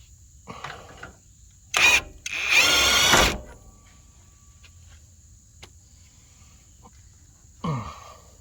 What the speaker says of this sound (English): with a 24 millimeter long socket to get this bolt loosened out.